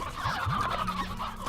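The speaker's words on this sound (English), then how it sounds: "You guys have plenty of chickens" Chickens in the video game Slime Rancher make a short run of close, gobbling, clucking fowl calls over a steady game background, with no talking.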